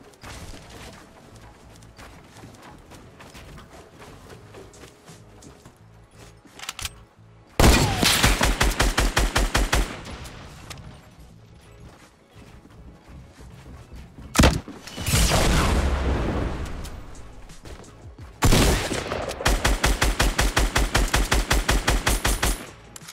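Bursts of rapid automatic gunfire in Fortnite: Battle Royale, loud and close, coming in three sustained volleys separated by quieter game ambience and a few single booms.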